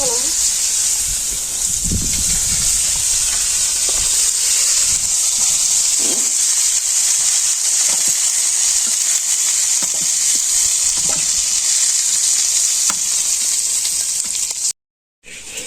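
Puti fish frying in oil over a clay stove, with a continuous loud sizzle and occasional stirring knocks. The sound breaks off briefly near the end.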